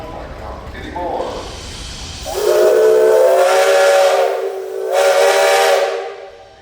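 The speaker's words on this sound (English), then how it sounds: "You got a whistle." A steam traction engine whistle at a parade gives two long, loud, hissing blasts close by, with a brief pause between them and some voices before the first.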